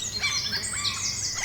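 Bird calls sit in a designed rainforest ambience, a mix of quick chirps and sweeping whistled notes over a faint insect buzz, moderately close and continuous.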